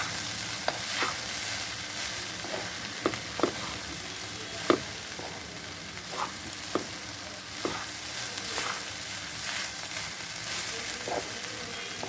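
Flattened rice pulao is stirred in a hot pan with two spatulas, sizzling steadily while the metal utensils scrape and clack irregularly, loud and close throughout with no talking.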